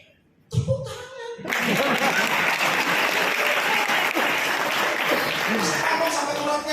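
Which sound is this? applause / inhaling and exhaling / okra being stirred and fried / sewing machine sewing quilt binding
applause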